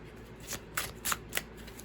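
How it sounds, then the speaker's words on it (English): Tarot cards being shuffled by hand in short bursts, a few distinct crisp riffles and slides against a quiet background with no talk. "I have to shuffle these really well."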